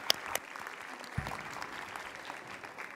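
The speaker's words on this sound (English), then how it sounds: "please give a warm round of applause to welcome the Honorable Governor of the State of Veracruz" A hall audience applauds to welcome the Governor of the State of Veracruz at a formal videoconference event, a fairly soft but continuous patter of many hands with a few sharper claps near the start.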